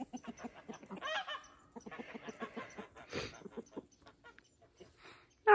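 Backyard chickens cluck softly in a steady run of short, quiet calls, with a brief louder sound near the end.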